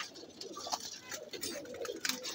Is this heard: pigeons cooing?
yes